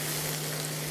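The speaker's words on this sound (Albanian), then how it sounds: "tashmë do hedhim edhe patlıcanët për të skuqur." Eggplant and onion sizzle steadily in a hot pan, a dense even crackle with a faint constant hum beneath, with no voices.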